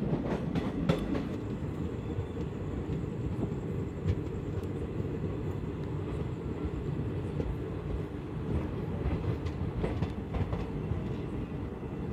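Steady low rumble of the Gour Malda Express passenger train running on rails, continuous and close, with faint rhythmic clatter throughout and no voices.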